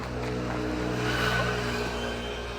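Street traffic on Prinsengracht in Amsterdam on a weekend, with car engines rumbling steadily and swelling slightly as a vehicle passes nearby, against a continuous urban background without speech.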